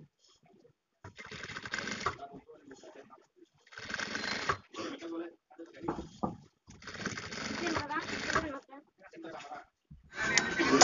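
A sewing machine stitches a kameez neckline design in short, close runs separated by brief pauses, each burst carrying a rattling mechanical whir.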